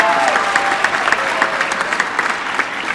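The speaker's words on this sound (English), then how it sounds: "So can you clap for Wyatt Dieterman?" Clapping from the audience at a school music department winter concert, dense and continuous for three seconds, with faint crowd murmur beneath.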